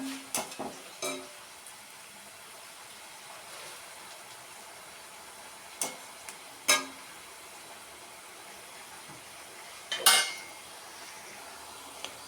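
Dried bitter gourd slices deep-fry in hot oil with a faint, steady sizzle, broken by a few sharp utensil clinks against the pan.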